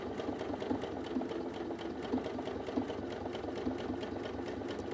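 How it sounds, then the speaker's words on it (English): A sewing machine stitches down the edge of appliqué fabric, running steadily and close with a fast repetitive mechanical rhythm throughout, alone without voices. "I'm going to sew down the edge now"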